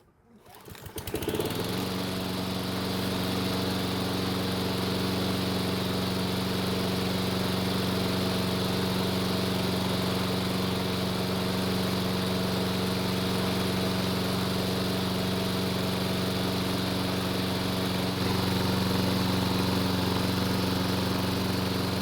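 A Toro or Husqvarna lawn mower engine starts up and then runs at a steady idle for about twenty seconds, a loud and constant drone with no talking over it.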